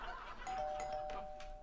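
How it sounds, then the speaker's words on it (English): A doorbell chimes with ringing electronic tones, quiet and slightly distant, with faint background noise. "Oh, doorbell."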